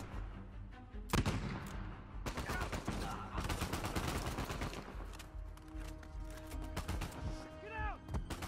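Gunfire in Uncharted 4, with loud sharp shots and rapid bursts crowding together, some echoing booms, and a voice speaking briefly between them.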